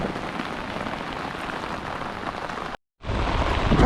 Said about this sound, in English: Pissing down with rain and on a builder string line and no bait.